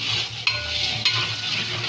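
Onions fry in a pot for vegetable pulao with a steady dense sizzle, marked by two sharp utensil knocks before the sound cuts off abruptly. No voices are heard.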